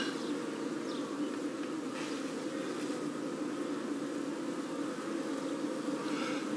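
Honeybees in an open top bar hive give off a steady, close, dense buzzing drone that holds throughout without a break.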